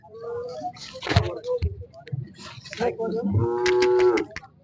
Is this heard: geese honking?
no